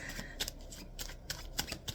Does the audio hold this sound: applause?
no